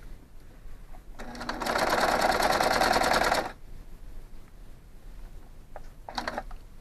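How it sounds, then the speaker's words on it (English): Free-arm sewing machine stitching a fabric pogie cuff for bike handlebar covers, running in one steady burst of about two seconds, then brief short stitching bursts later, close and fairly loud. "I'm just going to sew this cuff together just so it's an even edge."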